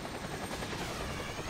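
Helicopter in the video game Point Blank, a steady broadband rotor and engine roar holding constant through the short stretch, fairly loud, with no talk over it.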